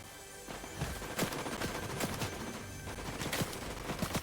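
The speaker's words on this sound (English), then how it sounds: "There's another man shooting!" Rapid bursts of gunfire from a video game fight, several sharp shots in quick clusters over a busy, loud background with no talking.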